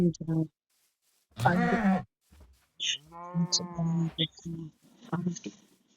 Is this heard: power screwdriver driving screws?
no